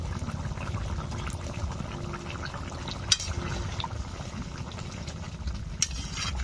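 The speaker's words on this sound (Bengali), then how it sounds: "ঝোল ফুটছে" Chicken curry broth boils in a pot, a steady low bubbling simmer that runs throughout with two brief sharp clinks, and no talk.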